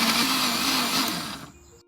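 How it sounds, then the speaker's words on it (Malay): A blender grinding ginger, lemongrass, garlic, shallots and half a cup of water whirs loudly with a steady grinding roar, then winds down and cuts off near the end. "Kita blend dulu halia, ni serai, bawang putih, lepas tu bawang merah, air setengah cawang."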